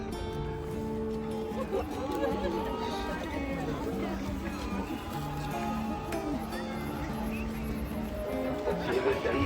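A dense crowd mills around the Kunkeshwar temple fair, a steady wash of overlapping chatter and babble with scattered nearby voices, constant and fairly loud throughout without clear breaks.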